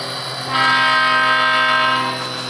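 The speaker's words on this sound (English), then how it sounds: "we're going to switch our uh, locomotive around" A model train locomotive runs close by on a layout, a steady mechanical hum with a rising tonal whine that swells in the middle and then eases.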